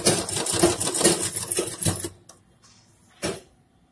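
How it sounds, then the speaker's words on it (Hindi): A sewing machine stitches piping onto a suit neckline, running in a steady, rhythmic burst for about two seconds before stopping, then giving one short extra run. "अब पाइपिंग कोट को डाल के स्टिच करेंगे।"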